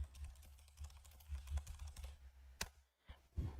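Typing on a computer keyboard, with quick, irregular key taps close by and quiet, including a sharper key press partway through, and no talking.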